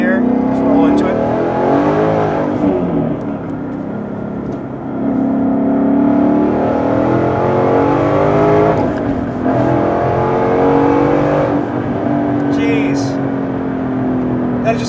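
A 2017 Ford Mustang fitted with a Roush Stage 3 kit accelerates hard in second gear, its engine note climbing steadily and loudly from inside the cabin while someone talks over it.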